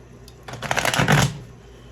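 A quick riffle of stiff tarot cards being shuffled close by, a brief burst of rapid flapping that swells and fades within about a second.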